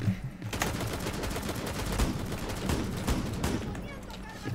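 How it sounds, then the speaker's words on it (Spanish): Rapid machine gun fire in Rainbow Six Siege, loud dense bursts of shots repeating throughout with a voice talking over them. "De lo que mejor suena en este juego a nivel de potente, las ametralladoras, tío."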